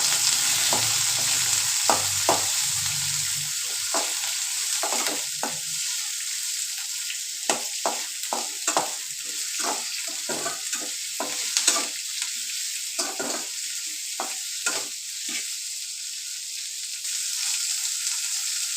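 Onion, garlic and tomato frying in a pan while a spoon stirs them, with repeated scraping strokes over a bright, steady sizzle and no voices.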